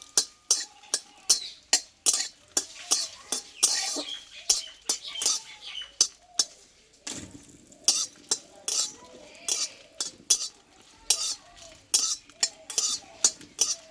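Chillies frying in a pan for Bengali jhalmuri, with a spatula clinking and scraping against the metal in a steady, quick rhythm close by; a brief, softer pause comes midway before the stirring resumes.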